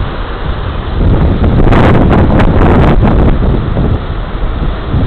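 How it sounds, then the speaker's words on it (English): Wind blasts across the microphone outdoors at a fishing spot, a loud, continuous rumbling buffet that swells in the middle, with a faint wash of water behind it. "Can't really tell because the wind's blowing."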